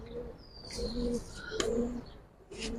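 Racing pigeons at a loft give soft, repeated throaty coos with a few brief chirps, close by and moderately quiet, with no talk over them.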